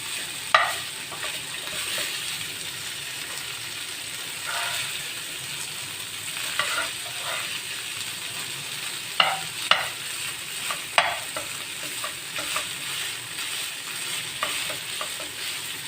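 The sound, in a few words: beef frying in a pan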